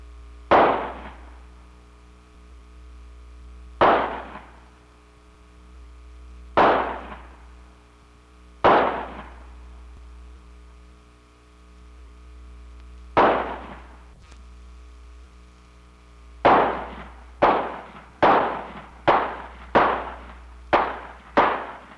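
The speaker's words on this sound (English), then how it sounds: "Joe has been known as the fastest gun alive, and here he's out to show Andy how he got that name." Rapid gunshots from a Charter Oak model Colt revolver of the Civil War era in a fast-draw demonstration: loud, sharp reports, first spaced single shots, then a quick burst of about seven near the end.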